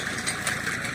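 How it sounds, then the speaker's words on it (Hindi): A tractor engine runs steadily while ploughing a field with a harrow, a continuous mid-pitched drone with no pauses and no talk. "ये चल रही है हैरो से जुताई"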